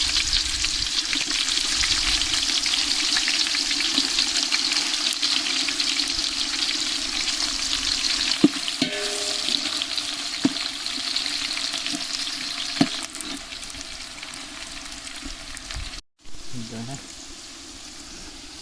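About 400 grams of onions, added after bay leaves for egg biryani, fry in a pan with a steady loud sizzle and occasional stirring scrapes, a brief break near the end.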